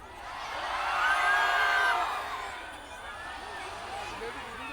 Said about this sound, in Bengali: এবার আমার হাত যত উপরে থাকবে তত জোরে চিল্লাবা,